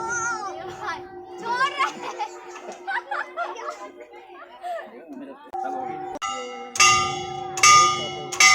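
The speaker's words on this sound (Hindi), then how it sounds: "यहाँ पे एक घंटी थी, मान्यता है कि इस घंटी को ज़रूर बजा के अंदर की तरफ जाना चाहिए।" A temple bell rung at the 108 Shiva temple complex in Burdwan, its bright ringing tones rising clearly over a background of children's chatter and laughter, growing louder and repeating toward the end.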